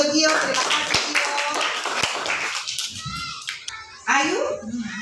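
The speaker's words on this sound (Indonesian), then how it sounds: "Tepuk tangan untuk Gio" Schoolchildren in a sixth-grade math class clap for a classmate, a short burst of scattered hand claps mixed with kids' chatter, then fading as a voice speaks alone.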